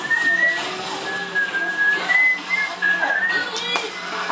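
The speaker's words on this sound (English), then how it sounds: "I don't know why we're all whistling." Several people whistle together in a wavering, tuneful line that comes and goes over a few seconds, with faint chatter and background noise underneath.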